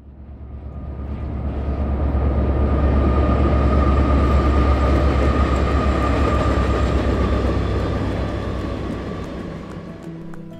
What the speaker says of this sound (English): We had maybe like four or five trains go by in total.